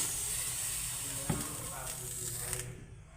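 Water poured into a pan of sizzling fried spice paste while cooking a raw papaya kofta curry, giving a loud steady hiss with short bursts as it hits, then fading toward quiet.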